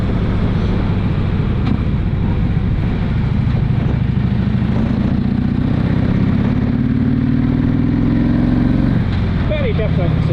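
A Harley motorcycle engine while riding, a loud continuous low rumble with a rising pitch as it accelerates, under a voice talking throughout.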